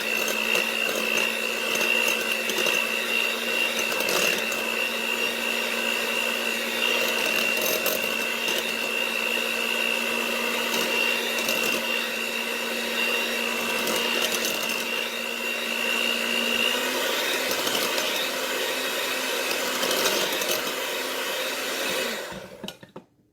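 An electric hand mixer whirs steadily, whipping thawed Cool Whip with confectioner's sugar for fruit pizza topping, a loud, constant motor whine that runs for about twenty seconds and then cuts off.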